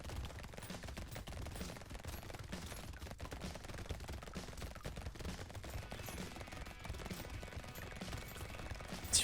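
A small turret in the video game Brotato fires rapid, dense bursts of light gunfire-like shots over a busy, quiet game soundscape, with no voices.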